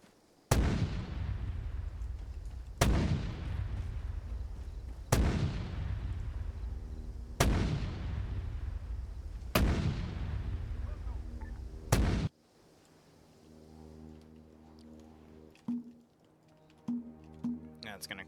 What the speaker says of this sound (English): I think they're gonna try to use the mortar to destroy the ZU gun.